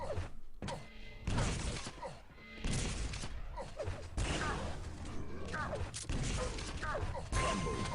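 Shotgun blasts and other weapon fire come in bursts during a fast online first-person shooter duel, with sharp, loud shots separated by short pauses and mechanical clatter, and a commentator talking over parts of the action.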